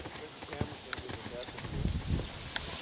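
A horse loping in soft circles, its hoofbeats thudding in an irregular rhythm at moderate distance, with people talking over the steps.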